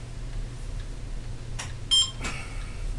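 A short electronic beep from LED lights on an RC plane sounds once amid a couple of brief clicks and handling noises, over a low background hum.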